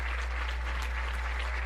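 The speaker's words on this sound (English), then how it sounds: "even the Ohio Northern team giving him a round of applause" Crowd at an Ohio Northern vs Franklin College Division III football game applauding an injured player, a steady distant patter of clapping from the stands over a low hum.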